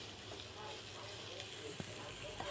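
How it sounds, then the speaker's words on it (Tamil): Cabbage hisses and sizzles as it is stir-fried in a pan for egg fried rice, a faint steady frying noise with a few light scrapes. "கோஸை போட்டு நல்லா கிளறி விடணும்"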